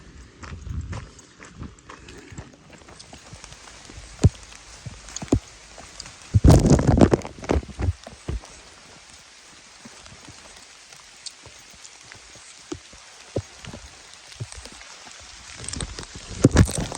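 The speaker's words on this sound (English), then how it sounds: "It's raining, so when it starts raining, I really get stuck in my own head a lot." Rain falls on a forest trail during a thru-hike, a steady close-up patter and hiss, with scattered louder drops and thumps from gear or footsteps.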